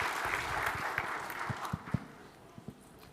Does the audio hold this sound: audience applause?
yes